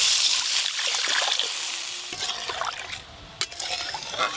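Water is poured into a pot for a sour curry with fish roe and raw green mango. A soft liquid rush is followed by a few light clinks and splashes.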